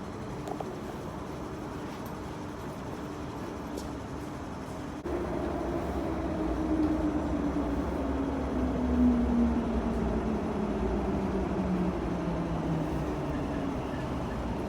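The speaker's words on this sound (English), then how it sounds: "Now let's spot some trains." A metro train pulling into HKU Station on an underground platform, a steady rumble that steps up in loudness and carries a slowly falling whine as it slows, with no talk.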